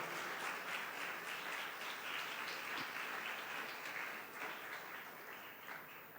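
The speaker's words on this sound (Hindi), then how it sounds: "भरपूर तालियों में खराज तहसीन पेश करें और उनको मुबारकबाद दें।" On Mother's Day a congregation at Sunday Mass claps in honor of mothers, a continuous wash of applause heard from a distance, even and then gently thinning out.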